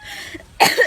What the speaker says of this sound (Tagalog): Sa ibang bansa, pag may umubo.